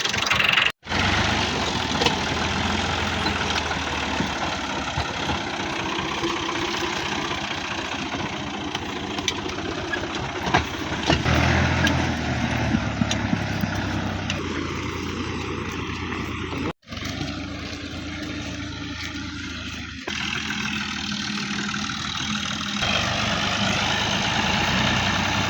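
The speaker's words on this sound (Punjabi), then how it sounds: "ਹੁਣ ਟਰੈਕਟਰ ਲੈ ਕੇ ਚੱਲਦੇ ਆ ਡੇਰੇ।" A tractor drives along a rural farm track toward a cattle yard, its engine running with a steady, rough drone that stays loud and continuous throughout, broken only by two brief dropouts.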